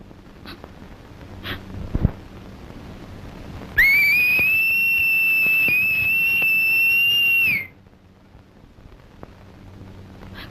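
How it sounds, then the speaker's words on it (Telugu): A single loud, sustained whistle rings out close by, holding one steady pitch for about four seconds before stopping abruptly against a quiet background. "ఈల వేయటం నాకు మాత్రం ఇష్టం అన్నా."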